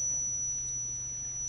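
A steady electronic buzzer tone from a simple homemade buzzer-and-light circuit drones continuously, a thin high pitch held without a break alongside a low hum.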